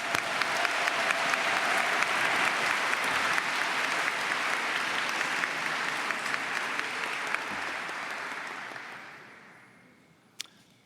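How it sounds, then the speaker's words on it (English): A crowd applauds steadily and loudly for award winners at an architecture graduation convocation, sustained clapping that gradually fades out near the end. "another round of applause for all of those winners."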